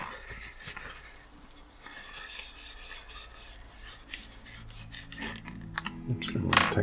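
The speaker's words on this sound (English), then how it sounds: "we're going to wipe off the excess" A cloth wipes the excess finish off a refinished GBD billiard pipe bowl, producing soft, close rubbing and rasping strokes that grow busier and louder toward the end.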